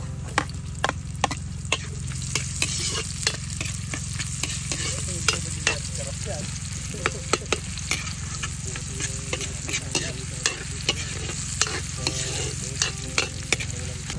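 Garlic and onion sauté in a pan for adobong bitek, a continuous close frying hiss broken by a steady series of sharp spatula scrapes and taps against the pan throughout.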